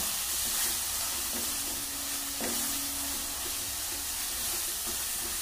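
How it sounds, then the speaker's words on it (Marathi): Chili-powder masala sautéed in a pan as a base for soybean noodles, a continuous soft sizzle and hiss with faint stirring scrapes and no talking. "याच्यामध्ये टाकणार आहे परतून घ्यायचं मसाला।"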